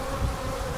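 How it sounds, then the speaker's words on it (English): Honey bees hum steadily from a colony in a brief, even, close buzzing drone with no voices. "This is a fantastic colony of bees"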